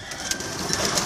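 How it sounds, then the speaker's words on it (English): Released pigeons flutter and coo outdoors through a brief steady wash of ambient noise, with several soft wingbeat bursts close by. "He got the birds out."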